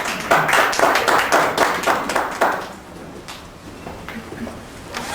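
Applause welcoming a guest speaker, Dr. Ernesto Calderón, at a formal SUNARP conference event: a crowd claps loudly for about three seconds, then the clapping thins out and fades to scattered claps.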